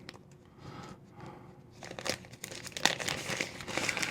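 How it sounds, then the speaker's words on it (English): A zip-lock plastic bag is opened from a Kizer Raze knife package. Soft, close crinkling builds into louder crackling and rustling of plastic over a few seconds, with no talk. "We got ourselves a little bag that it's in, which is zip-locked."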